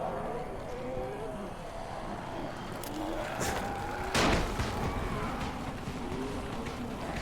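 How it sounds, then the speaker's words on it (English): A thrown firecracker bursts once with a sharp, loud bang about two-thirds of the way through, in the zombie game Dying Light, over a steady rumbling game background with faint voice-like murmur. "Firecracker go burr"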